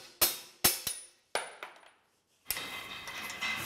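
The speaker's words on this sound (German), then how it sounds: "mit Hammerschlägen kann man dann die Schale einfach rausschlagen" Hammer blows knock the bearing cups out of a vintage racing bicycle frame: four sharp metallic strikes with ringing decay, close and clear, followed by a pause and then a rougher scraping rustle.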